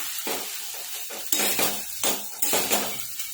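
Spiced potato and pea kachori filling with amchur powder being mixed in a bowl, several close, sharp scrapes and clinks of a spoon against the vessel in an irregular rhythm.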